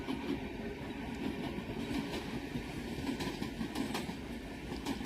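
An Indian passenger train with identical coaches rolls past on the rails, a steady rumbling clatter of wheels with faint rhythmic clicks, heard from some distance and fairly quiet.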